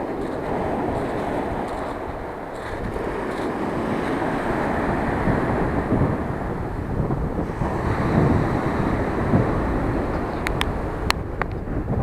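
Sea waves crash against a broken breakwater on the Crimean coast, a loud, continuous surging roar with heavy wind buffeting the microphone and a few sharp clicks near the end.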